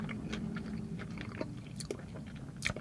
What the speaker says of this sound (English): let's take a bite